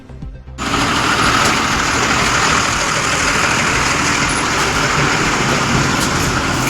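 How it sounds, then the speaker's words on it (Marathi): Vehicles pass along a dusty road under construction in Vadgaon Lakh near Tuljapur, a loud, close, continuous engine rumble and roadway roar that sets in abruptly after a brief quiet start. "या अशा गाड्या जातात, सर्व धूळ आमच्या घराकडे यायला लागलाय"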